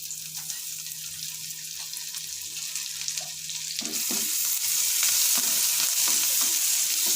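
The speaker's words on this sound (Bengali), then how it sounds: "আমি নাড়াচাড়া করে নেব" Chopped ginger sizzles and fries in a pan for chicken momo while being stirred, a steady close hiss that grows louder partway through with repeated scraping stir strokes.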